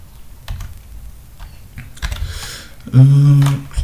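Search text being typed on a computer keyboard: a handful of light key taps spread over a few seconds, near and clear, followed by a short electronic tone.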